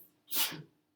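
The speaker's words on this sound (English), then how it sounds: "Bless you." A single sharp sneeze bursts out close by, loud and brief, in an otherwise quiet classroom setting.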